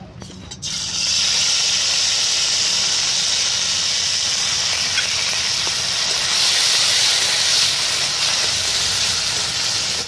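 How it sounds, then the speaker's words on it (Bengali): Marinated prawns sizzle in a hot wok with a little oil, a loud, steady frying hiss that starts abruptly and holds without a break. "কড়াই গরম হয়ে গেছে, আমি এবার চিংড়ি মাছটা ভেজে নেব"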